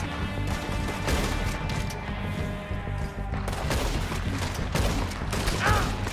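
Gunshots in Red Dead Redemption 2 during a train robbery, a volley of sharp cracks and rapid shots with impacts, loud and repeated across the whole stretch amid game noise.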